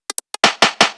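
A layered percussion fill loop from a Viking-style house track plays alone: three quick, sharp, pitched clicks are followed by three heavier, noisy, punchy hits that decay briefly, all tight and loud.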